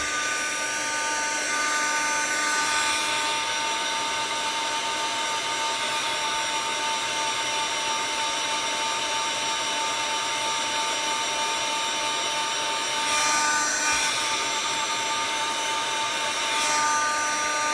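A heat gun blows steadily on a shrink plastic jewelry shape, a continuous loud airy roar that rises slightly in intensity at a couple of moments near the end.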